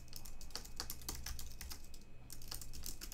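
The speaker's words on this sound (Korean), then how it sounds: "그 타이핑을 할 수가 있다는 거죠" Rapid keystrokes on a computer keyboard, close and clear, with a brief pause before the typing resumes at the same brisk pace.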